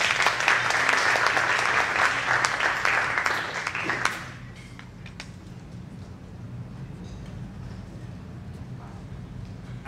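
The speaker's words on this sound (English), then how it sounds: "so give him a round of applause, please." An audience at a jazz band concert applauds a soloist, a dense burst of clapping that lasts about four seconds and then cuts away to quiet room sound.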